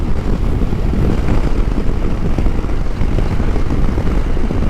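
A Husqvarna Norden 901 motorcycle engine lugs in sixth gear, heard as a loud, steady low rumble heavily mixed with roaring wind buffeting, continuous throughout with no talking.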